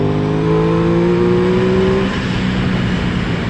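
An Aprilia Tuono 660 motorcycle engine revs up with a rising, close and loud tone, then shifts or eases off around midway and carries on at a steadier drone.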